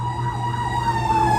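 A fire truck siren wails steadily and loudly throughout, with a low engine rumble underneath.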